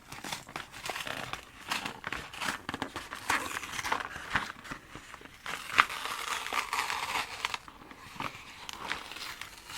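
Packaging is peeled away by hand during an unboxing, giving close, quiet crinkling and tearing of plastic and paper in uneven bursts, with no talking.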